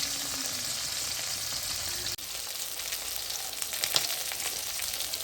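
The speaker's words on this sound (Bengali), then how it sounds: "মাছ ভাজা হয়ে গেছে" Tilapia fish pieces coated in salt and turmeric fry in hot oil in a wok, giving a steady, dense sizzle with a few louder pops and crackles.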